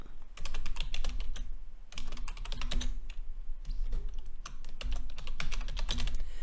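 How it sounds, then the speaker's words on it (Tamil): Rapid typing on a computer keyboard while entering text into a shape in PowerPoint, with dense, close clicking keystrokes in bursts separated by brief pauses. "இன்சர்ட் பண்ணிவிட்டு இதில் ஏதாவது டெக்ஸ்ட்டு டைப் பண்ணுறேன்"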